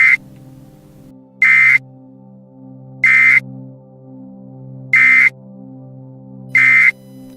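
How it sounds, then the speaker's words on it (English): A steady electronic alarm in Kerbal Space Program beeps five times at an even slow pace, each tone about a quarter second long and loud over a low droning hum, with no talking. "What's that beeping?"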